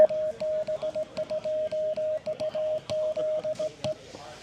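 Morse code in CW sent fast with the letters run together, a steady tone keyed in rapid clipped bursts with almost no gaps, heard over faint radio background hiss.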